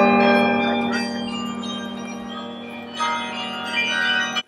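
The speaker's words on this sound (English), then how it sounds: "the signal is being used to basically drive the bells in the bell tower and the lights" The bells of the Campanile bell tower at UC Berkeley, sonified from a signal, ring out in sustained, layered metallic tones, with fresh strikes swelling near the end before cutting off abruptly.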